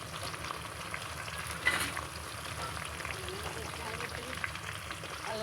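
Two tomatoes hit a hot pan and fry for chicken biryani, giving a steady close sizzle with a brief louder splash as they go in and soft stirring scrapes.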